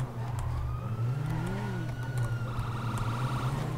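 In the GTA 5 video game, a police car with its siren wailing chases an old-style AE86 car, a rising and falling siren tone over a constant engine drone, moderately loud.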